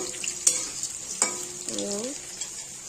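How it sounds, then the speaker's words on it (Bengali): Potatoes frying in a pan, a steady faint sizzle with a couple of brief stirring scrapes and clinks, heard up close with no talking. "আলুটাকে ভেজে নেবো সুন্দর করে লাল করে ভেজে মশলা কষিয়ে"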